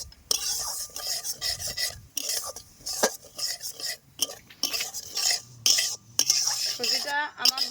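A utensil scrapes and stirs semolina as it is lightly dry-fried in a pan for a watermelon sweet, in repeated rough strokes with brief pauses, fairly close and clear.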